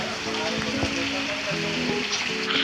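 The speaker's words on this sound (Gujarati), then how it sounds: "થોડો વરસાદ પણ ચાલુ થઈ ગયો છે" Light rain just beginning in a Gujarati village during a stormy spell, a soft steady patter with faint hum and voices in the background.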